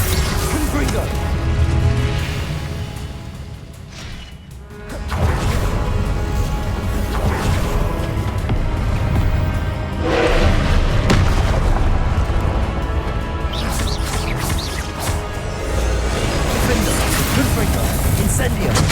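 Confringo blasting curses in Hogwarts Legacy, repeated loud booming explosions with whooshes and crashes amid busy combat sound and music, a voice calling out spells now and then.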